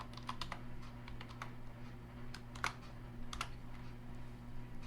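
Clicky keystrokes tapped on a computer keyboard while a password goes in, arriving in irregular quick bursts with short pauses between them, fairly close and moderate, over a steady low electrical hum.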